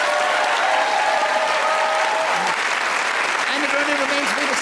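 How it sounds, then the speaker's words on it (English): Sustained studio audience applause for Paul Merton on a radio panel game show, a dense even wash of clapping with a voice speaking briefly over it. "A round of applause for Paul Merton."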